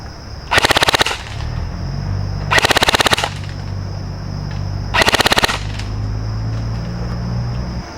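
A King Arms full-metal M4 carbine airsoft electric rifle fires three short full-auto bursts, each a rapid mechanical rattle of about half a second, spaced a couple of seconds apart over a steady background hum.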